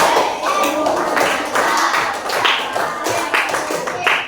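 An elementary class claps out a patterned rhythm in short bursts of sharp, loud group claps separated by brief pauses, with voices chanting along between the claps.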